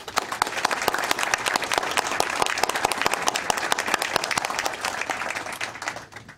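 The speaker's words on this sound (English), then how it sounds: "Another round of applause." An audience at a town board of education meeting gives a round of applause, many distinct hand claps in a lively, uneven rhythm that thins out toward the end.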